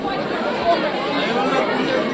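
A crowd of visitors chatters at a busy cowshed in Mayapur, a steady blur of many overlapping voices close around with no single speaker standing out.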